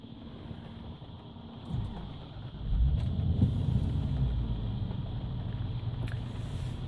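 Bentley Arnage with a 6.75 litre Rolls-Royce V8 catching after a push-button start, then settling into a deep, steady idle rumble, close and moderately loud, with no talking.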